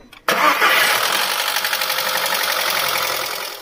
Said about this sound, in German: Wenn ihr meint, die Kette hört sich komisch an, so wie in diesem Video gerade